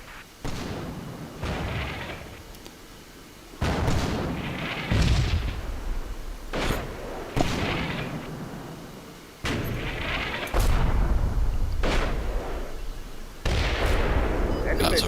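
Repeated heavy booms of artillery shells landing in the video game Combat Mission Black Sea, spaced a few seconds apart, with rumbling aftermath and a voice talking between impacts.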